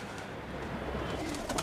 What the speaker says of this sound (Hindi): कबूतर वहाँ पे उड़ रहा है